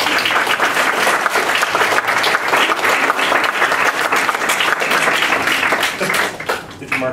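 A lecture audience at an art academy breaks into loud, sustained applause, many hands clapping in a thick, even wash that tapers off in the last second.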